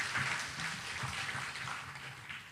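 A crowd of residents of Bandung applauds, a steady wash of clapping heard at a moderate distance and sustained throughout.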